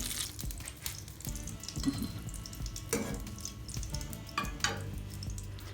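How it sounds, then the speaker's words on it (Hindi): Potato chapli kababs fry in a pan, a quiet but steady sizzle and crackle with soft stirring and occasional louder bursts of spattering oil, close by and without talk. "अब हम दूसरे भी बना के इसी तरह से फ्राई कर लेते हैं।"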